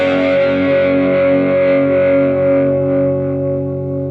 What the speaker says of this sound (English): you can hear all those trebles coming in and upper harmonics being introduced